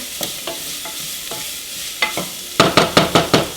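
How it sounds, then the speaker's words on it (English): Onions sweating in a pot are stirred with a utensil, giving soft sizzling under a series of sharp scraping knocks that grow louder and quicker toward the end, close and without speech. "So we're just sweating out these onions for a little bit."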